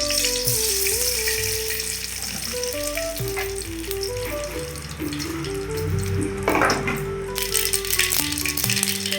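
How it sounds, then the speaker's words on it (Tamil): Mustard seeds crackle and pop in hot ghee in a kadai while tempering for sambar rice. A steady sizzle runs under background music, with a brief burst of sharper crackling near the end. "கடுகு நல்லா பொரிஞ்சிருச்சு"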